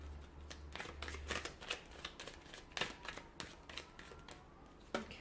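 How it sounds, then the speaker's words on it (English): A deck of tarot cards is shuffled up close, with quick, crackling riffles and soft slaps of cards in an uneven rhythm that runs throughout, with no talking. "we'll give the cards a shuffle"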